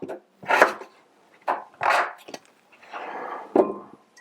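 A knife cuts potatoes into bite-sized pieces on a board, giving six or seven separate close thuds with short pauses between them.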